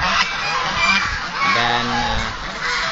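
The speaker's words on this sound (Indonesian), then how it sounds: "itik dan angsa yang berada di sini ya" Geese at a duck and goose farm honk loudly and repeatedly close by, overlapping calls in a noisy flock with some other fowl sounds mixed in.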